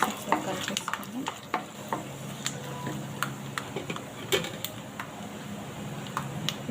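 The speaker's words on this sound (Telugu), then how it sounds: "మినప్పప్పు వేస్తున్నాను 1 స్పూన్ సగం. పల్లీలు ఒక 2-3 స్పూన్లు వేస్తున్నాను. వేసి కలిపేసుకుని" Urad dal and peanuts frying in hot oil in a pan with cumin seeds, a steady sizzle broken by scraping stirs and small ticking pops, close and moderately loud.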